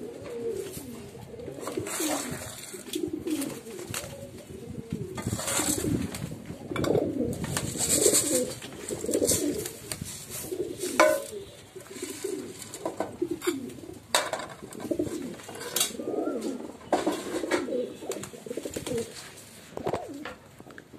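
Pigeons coo repeatedly in a loft while feeding, with soft overlapping throaty coos, wing flutters and occasional rustles and knocks close by, and no talk.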